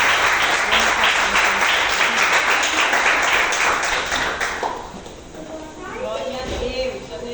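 Congregation applause in a church service, loud and dense for about four seconds before fading as a voice begins speaking over the thinning claps.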